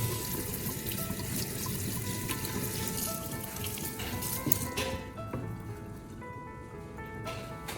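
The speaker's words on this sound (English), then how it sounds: "Rinse it under running water," Tap water runs continuously into a sink, splashing over broccoli pieces held under the stream, with faint clinks of dishes in the background.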